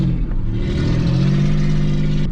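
A straight-piped 2001 Ford Ranger engine revs loud and close in snow, a steady throaty burble with a brief lift in pitch near the end.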